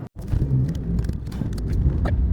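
Steady road rumble and tire noise fill the cabin of a van driving on a Texas highway toward College Station, a continuous low drone with small bumps and no talking.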